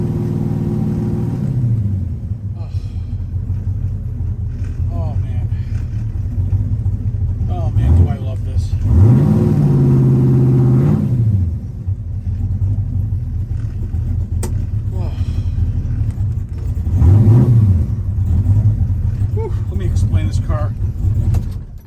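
A 1971 Chevrolet Nova with a 427 engine and 4-speed transmission rumbles at idle and then revs hard in several loud swells, with gear changes and excited voices heard between the bursts.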